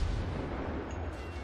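A warship's broadside in World of Warships, heard as a deep, sustained rumbling boom that fills the moment at steady loudness without distinct separate shots; no talking.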